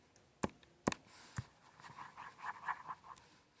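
Pen or chalk writing on a board during a maths lesson, a few sharp taps and strokes followed by a run of soft scratchy scribbling, fairly quiet and close, with no talk.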